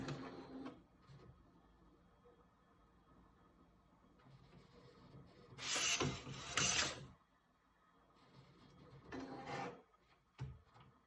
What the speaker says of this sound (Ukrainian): Починається ініціалізація в штатному режимі.